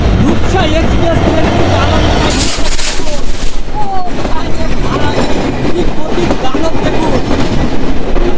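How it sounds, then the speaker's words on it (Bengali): Loud rumble of the Rupsha Express train rolling in at a station in Naogaon, Bangladesh, wheels clattering steadily close by, with a broad burst of noise partway through and voices underneath. "আমরা এখন ট্রেনের জন্য ওয়েট করতেছি আর আমাদের ট্রেন আসতেছে"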